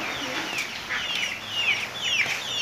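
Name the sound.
chicken in the garden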